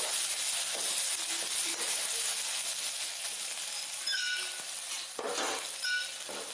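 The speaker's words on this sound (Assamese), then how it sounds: "এইখিনি মই এতিয়া তেলত দি পেলাই অকণমান ভাজি লৈছোঁ।" Ginger and garlic paste fries in hot oil in a pan, giving a steady close sizzle with occasional stirring scrapes and brief clatters, no voices.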